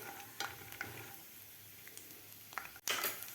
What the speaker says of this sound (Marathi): मिडियम गॅसवर व्यवस्थित आपल्याला शेंगदाणे भाजायचे आहेत